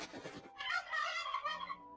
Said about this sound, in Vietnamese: Thật khéo không ngờ, hắn Ngọc Tùng rơi ngay vào chuồng gà.